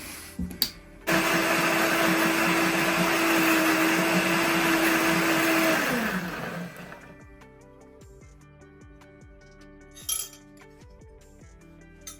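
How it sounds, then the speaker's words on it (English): A high-power blender crushing ice roars loudly for about five seconds, its motor pitch dropping as it winds down, followed by a few faint clinks. "Ensure that you use a high power blender if you're going to be crushing your ice."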